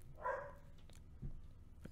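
A single dog bark early on, followed by a fainter second yelp, over a low rumbling background, in the video game Guardians of the Galaxy: The Telltale Series.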